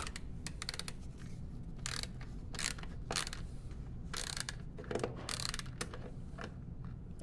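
A screwdriver unscrews a small screw from an electronic board during repair of broken audio outputs, giving faint, close, irregular clicks and ratcheting ticks with no talk.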